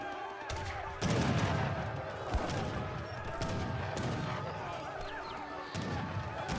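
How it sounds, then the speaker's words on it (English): Heavy cannons firing in an Age of Empires 3 battle, several booming shots with crackling battle noise, mixed with other game sounds and heard under a commentator's voice. "Heavy cannons find some hits on the slingers."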